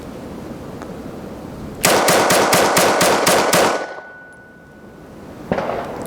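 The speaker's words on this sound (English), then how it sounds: "Let's see if this thing could hold up to a little mag dump." A Bersa BP9CC pistol emptying its magazine in a rapid burst of about eight sharp, evenly spaced shots lasting roughly two seconds, ringing out loud outdoors, followed by a lingering metallic tone and quiet.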